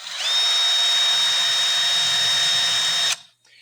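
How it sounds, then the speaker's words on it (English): A power drill boring into wood for a wooden puzzle whines loudly at a steady pitch for about three seconds, then stops abruptly, leaving near silence. "I also want to drill over a hole on the bench."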